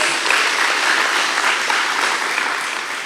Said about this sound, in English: Yet again, a round of applause.